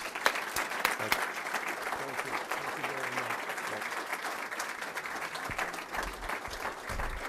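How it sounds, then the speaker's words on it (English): Steady, dense applause from a large college audience after a speech by Lieutenant Governor Kathy Hochul fills the whole stretch, with sharp individual claps standing out against the continuous roar. "So how about one last round of applause?"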